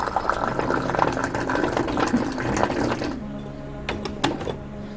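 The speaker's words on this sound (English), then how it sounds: "how to serve Moroccan tea this way, in the form of a waterfall" Moroccan tea is poured from height in a long waterfall stream, a steady rushing splash at close range that breaks off into a few brief dribbles and clinks.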